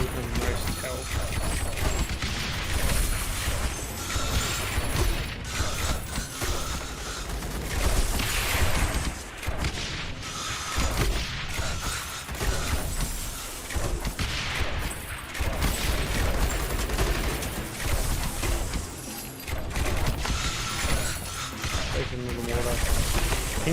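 Steady barrage of mortar fire and explosions from the tower-defense game Rogue Tower, dense and continuous across the whole stretch with a voice talking over it.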